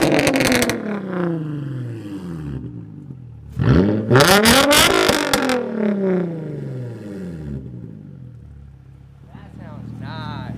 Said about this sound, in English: Let it warm up for a little bit and then we'll give it a couple revs.